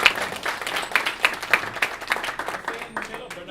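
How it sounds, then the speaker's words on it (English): Audience applause and hand clapping for company leadership at an Organo Gold business presentation, a burst of claps that stays busy for a few seconds with a voice speaking over it. "Can I get a big hand clap, y'all, for the leadership?"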